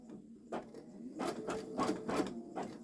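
A Babylock Solaris Vision embroidery machine sews slow long stitches in short, unevenly spaced bursts of whirring and clicking. It is close by with no talking, and the bursts grow slightly busier toward the end.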